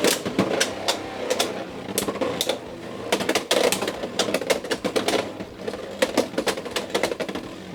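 Beyblade X spinning tops clash inside a Hasbro Xtreme Stadium, giving rapid, irregular bursts of sharp plastic clicks and clacks over a steady whirring rattle, close and fairly loud.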